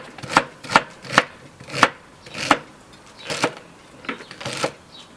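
Celery being cut on a cutting board at home: about eight crisp, sharp knife chops in an uneven rhythm, close and distinct, with quiet gaps between strokes and no talking.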